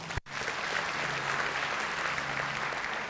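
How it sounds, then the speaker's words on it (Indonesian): Church congregation applause during a sermon, a sustained, dense roar of many hands clapping at fairly loud level after a brief dropout, with a low hum running beneath. "Tepuk tangan Tuhan Yesus."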